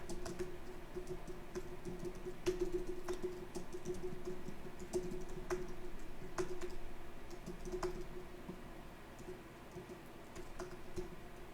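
Quiet, irregular keyboard typing with occasional sharper key clicks over a low steady hum, no voices present.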